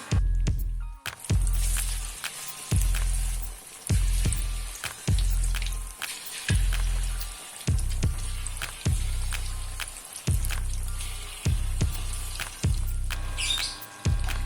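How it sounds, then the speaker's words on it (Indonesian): Flour-coated tofu frying in a hot pan, with steady sizzling and crackling oil throughout and repeated bumps and scrapes at regular intervals. "Kemudian kita siapkan penggorengan, kita panaskan terlebih dahulu, lalu setelah itu tinggal kita goreng seperti biasa."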